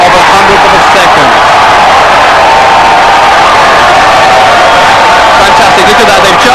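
A large crowd roars and cheers steadily at a rowing World Championships final, a dense, loud wash of noise that stays constant throughout with no breaks.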